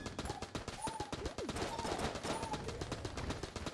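AK rifle fire in the Enter the Gungeon video game, rapid bursts of gunshots in quick succession over busy game effects, fairly faint in the mix.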